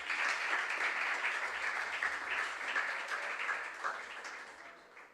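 A crowd applauding at a junior science and maths quiz competition, a dense wash of clapping that holds steady and then gradually fades out.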